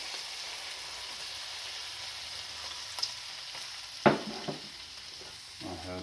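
Buffalo hamburger and onions frying in a pan give a steady close sizzle, with a few sharp clatters of stirring partway through and toward the end.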